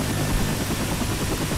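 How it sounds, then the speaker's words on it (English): A helicopter in the video game Left 4 Dead 2 roars as a dense, steady rotor-and-engine drone, loud and continuous throughout with no voices over it. "Helicopter."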